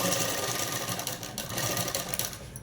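A sewing machine runs continuously while stitching the lining of a child's dress, a steady close whirring drone with a rapid needle rhythm and no talking.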